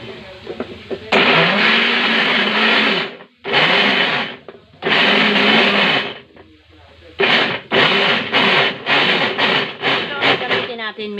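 An electric blender running at high power whirs loudly while blending papaya into a shake, in several bursts separated by short pauses, with brief stop-start pulses near the end.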